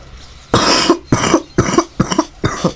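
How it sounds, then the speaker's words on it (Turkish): A person playing Brawl Stars coughs five times in quick succession, close and loud, with short pauses between the harsh bursts. "çok öksürüyorum arkadaşlar"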